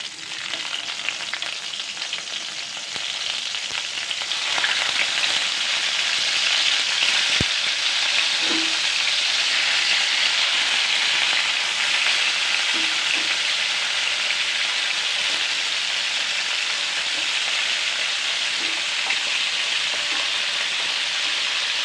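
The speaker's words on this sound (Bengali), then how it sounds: "তো চলুন মাংসটা ভাজতে দিয়ে দিই" Chicken pieces frying in hot oil for a chicken roast, a steady loud sizzle and crackle running throughout with occasional small pops and stirring scrapes.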